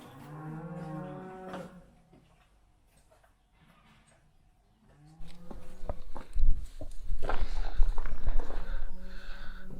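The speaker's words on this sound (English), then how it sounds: "our wonderful cows that we can hear" Cattle on a rural farm near old oast houses give several loud, drawn-out moos, a clear call at the start, then a quiet pause and a louder, busier stretch of lowing with shuffling close by.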